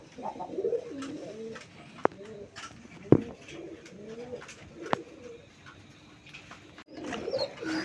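Moyna jhak pigeons cooing in soft repeated rolling calls, close by, with a few sharp clicks and knocks scattered among them.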